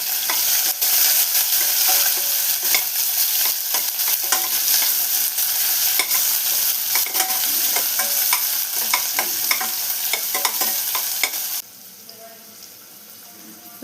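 Finely chopped onion, green chillies and small pieces of ginger sautéing in a pan for Kerala dal curry, a steady loud sizzle with frequent stirring scrapes, easing off to a quieter hiss near the end.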